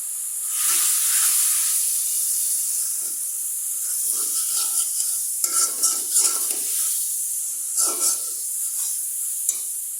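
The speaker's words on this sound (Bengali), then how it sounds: "পেঁয়াজ রসুন ভাজা ভাজা হয়ে গেছে হলুদ মরিচ দিয়ে দিলাম জিরা" Onion and garlic with turmeric, chili and cumin sizzle and hiss steadily in a hot pan, with occasional stirring scrapes and soft clinks rising over the frying.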